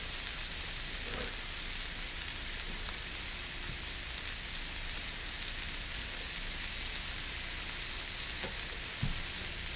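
Brussels sprouts frying in a pan, a steady quiet crackling sizzle heard close and alone, with a faint clink near the end.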